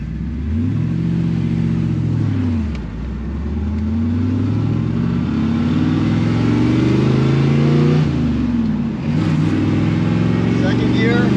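A 1977 Chevrolet Corvette accelerates hard in first gear, its mid-pitched V8 climbing steadily in revs, dipping briefly at a lift near the middle and then pulling up again, loud and close throughout.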